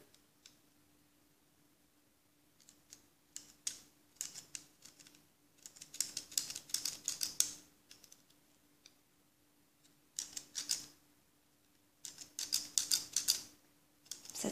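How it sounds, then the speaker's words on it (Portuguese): Small U-shaped scissors snip a leftover piece of plastic pen tube, making clusters of quick crisp clicks and crunches in short bursts with pauses between, close up and fairly quiet. "E esse pedacinho que sobrou, eu vou cortar com a tesoura."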